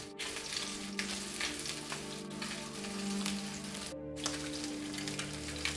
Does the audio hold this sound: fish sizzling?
yes